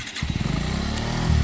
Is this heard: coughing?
no